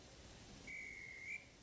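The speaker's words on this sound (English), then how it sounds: "the guard's whistle blew, and the two engines set off" A railway guard's whistle sounds once, a single thin steady tone held for about a second over a quiet background.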